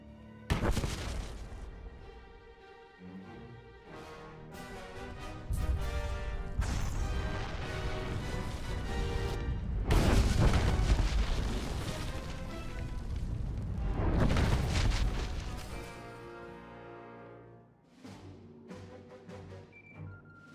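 Explosions and crashing blasts in Star Wars: The Old Republic on Corellia, several loud booming impacts with rumbling debris and a dramatic score, rising to heavy peaks around the middle before fading near the end.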